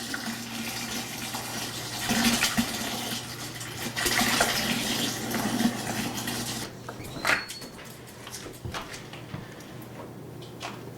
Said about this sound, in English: I'm using water out of jugs here. I'm opening them up. It's fresh water.